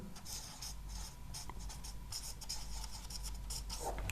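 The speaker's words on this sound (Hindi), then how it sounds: "मैं लिख देता हूं, सोने की पन्नी" Marker or chalk writing on a board during a chemistry lesson, faint rapid scratchy strokes in short bursts over a constant room hiss, without talk.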